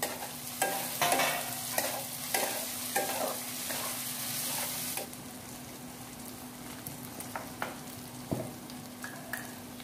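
Roasted, cleaned peanuts go into a hot frying pan for upma and are stirred, with a steady sizzle under rhythmic scraping strokes, loud at first, then quieter.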